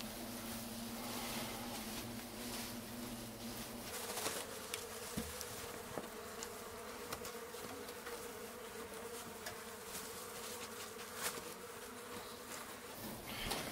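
European hornets buzz at a massive nest that chewed through a bedroom wall, a loud, continuous close drone with shifting intensity and occasional louder passes, no voices.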